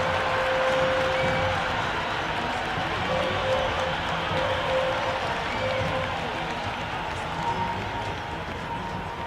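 A big stadium crowd at an IPL cricket match roars steadily after a lofted six, with continuous cheering and applause holding loud throughout and a commentator's voice faintly mixed in.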